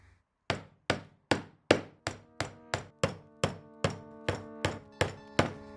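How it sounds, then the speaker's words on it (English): A hammer drives brad nails into wood with sharp ringing blows, about a dozen evenly spaced hits, close and clear with no talking. "I really wanted to hit something with a hammer"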